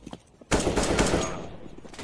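A burst of rapid automatic gunfire from Counter-Strike: Global Offensive crackles sharply and loudly after a few faint clicks, then trails off into a lingering echo.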